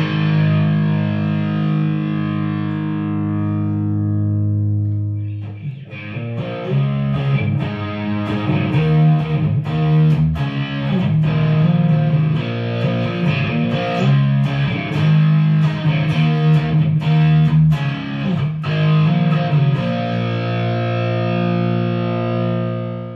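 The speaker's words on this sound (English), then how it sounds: "if you put the Klon between the tube screamer and the boost, you get a great lead tone" Lead electric guitar through a HeadRush MX5 effects unit with Klon, tube screamer and boost stacked: a sustained distorted note fades, then a long, loud run of singing overdriven melodic phrases with no speech.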